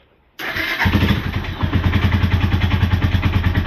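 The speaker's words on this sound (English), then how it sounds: "it runs, it doesn't leak oil at all. Watch this." A 1995 Suzuki GN250 motorcycle engine fires up abruptly without choke and settles into a loud, close, evenly pulsing idle, with no voices over it.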